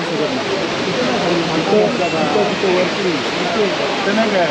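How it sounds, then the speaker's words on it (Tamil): Thoseghar Falls roaring in the monsoon, a steady, loud, broadband rush of falling water that fills the whole clip, with voices murmuring faintly beneath it. "பார்த்தீங்கன்னா இங்க ஒரு ஃபால்ஸ் இருக்கு"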